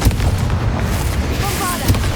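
Fiery Confringo spell cast in Hogwarts Legacy on PS5 Pro, heard as a loud, dense rumbling burst with crackling flame noise filling the short stretch amid busy game audio, with a voice speaking at times.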